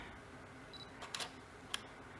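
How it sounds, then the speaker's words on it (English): A DSLR camera shutter fires in a quiet room, a close mechanical click-clack of mirror and shutter followed by one sharp final click, with no talk. "and take a picture."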